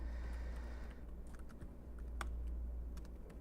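Fingers type on a computer keyboard with quiet, irregular key clicks over a steady low hum, with a few sharper taps standing out.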